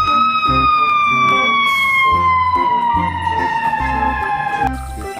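A toy fire truck's electronic siren wails loudly and steadily throughout, its tone sliding slowly downward, over the toy's rhythmic beeping jingle, with a brief voice near the end.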